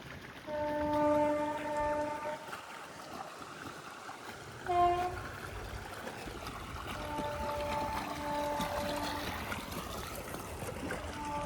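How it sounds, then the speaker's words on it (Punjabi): A passing train's horn sounds in long sustained blasts, then again later, over a steady rushing rumble of water running nearby from an irrigation pump motor into a wheat field. "ਰੇਲ ਗੱਡੀ ਵੀ ਆ ਗਈ ਤੇ ਮੋਟਰ ਵੀ ਚੱਲ ਪਈ"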